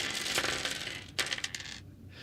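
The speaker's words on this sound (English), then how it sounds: "20-sided die." A 20-sided die rolls and clatters on a hard surface, a quick rattling burst followed by a second run of lighter bouncing clicks that settle within about two seconds.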